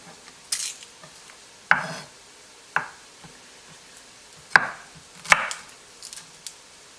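Garlic cloves are smashed to loosen their skins, giving several sharp, close knocks on a cutting board at irregular intervals with quiet gaps between them.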